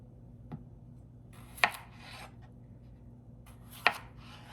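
A knife cuts potatoes into halves and quarters on a board, three sharp, close chops at uneven intervals with soft scraping between, and no talk.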